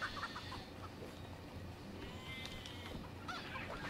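Chickens cluck and squawk in the Moving Out video game, a few short bursts scattered through a busy, steady game-sound background with no talk.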